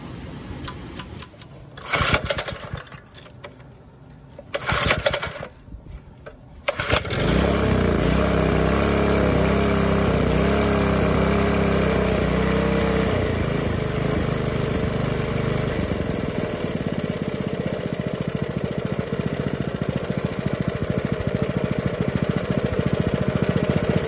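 Vintage 3HP Briggs engine sputtering into life after a few rough starts, then settling into a steady, loud, buzzing idle that runs on without a break.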